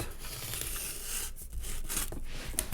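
Scissors cutting through cardboard to shape a craft dog bed, a close run of rough scraping, crunching cuts with short pauses between snips.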